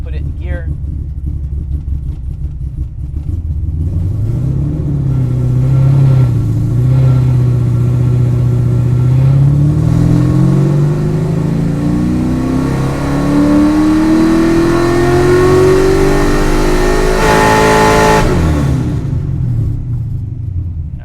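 A naturally aspirated GM LS7 V8 in a Datsun Z revs loudly and alone, its pitch sweeping upward through a long climb before dropping back off, with the rumble of the exhaust filling the space close by.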